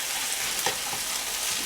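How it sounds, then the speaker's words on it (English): Shrimp etouffee ingredients are stirred in a pot, producing an even, close hiss of sizzling with a faint scrape from the spoon partway through, short and steady, no voices. "And let's get this all stirred in"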